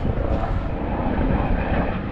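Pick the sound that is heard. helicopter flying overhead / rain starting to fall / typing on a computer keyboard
helicopter flying overhead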